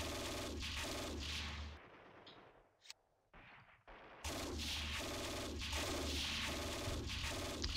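Steel Panthers World War II units firing at an infantry squad: dense, rapid bursts of gunfire, loud and sustained, broken by a brief near-silent gap with one sharp crack before the firing resumes.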